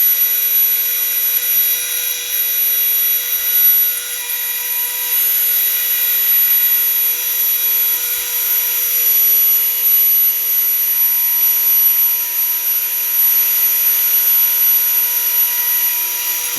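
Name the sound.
1/32 bit cutting wood inlay lines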